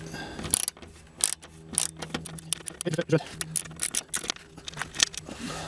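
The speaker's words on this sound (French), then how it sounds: "j'utilise une douille de taille 10 avec un cliquet et je dévisse" A ratchet fitted with a 10 mm socket unscrews a bolt on the engine cover of a Renault Scénic 3, giving rapid close clicking bursts with brief pauses between strokes.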